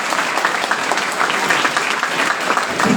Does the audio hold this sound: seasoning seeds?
no